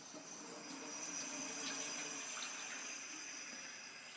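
Hot water pours steadily into bread dough for homemade Krabby Patty buns, a soft even rushing stream, faint and close, with no talking.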